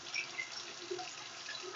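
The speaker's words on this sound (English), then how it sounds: "I'm going to fill it up with 32 ounces of water" Water runs into a container being filled with 32 ounces, a soft, fairly quiet gurgling trickle that shifts in pitch as it flows, with no talk over it.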